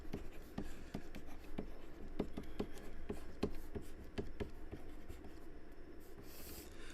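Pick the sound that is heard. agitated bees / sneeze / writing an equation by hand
writing an equation by hand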